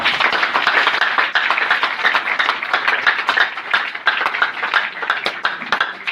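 A church congregation applauds together with dense, continuous clapping that stays strong and even for the whole stretch, and no speech is heard over it.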